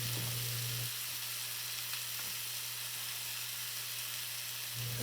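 Steak with thyme searing in a pan gives off a constant bright sizzle, close and even, with a low hum that drops away briefly in the middle.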